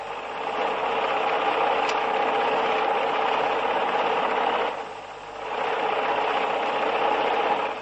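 A sewing machine runs steadily while stitching cloth, a continuous mechanical whir with a brief dip in the middle before it picks up again, heard alone at close range.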